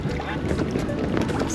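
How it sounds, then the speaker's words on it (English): Wind blows hard across the microphone while out on a boat on the water, a continuous loud roaring rumble with a voice speaking under it. "It's starting to get a little windy."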